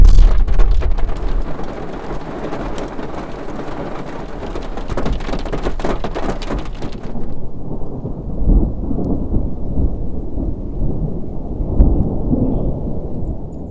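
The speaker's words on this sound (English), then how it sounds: "Our rain has now turned to hail just in time for us to be reaching one of our destinations." A hail and thunderstorm in New Mexico's Valle Vidal, with loud, continuous rain and hail rattling overhead and a deep thunder rumble underneath. Partway through, the sharp crackle of hailstones drops away and leaves a steadier roar of rain.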